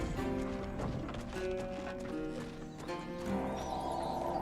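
A horse whinnies and hooves clip-clop over dense game music in Wartales, fairly faint and steady throughout.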